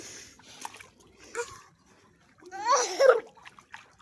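Sam the dog paddling and splashing in water, with soft scattered splashes building to a brief louder burst of sloshing near the end, nearby voices faintly present.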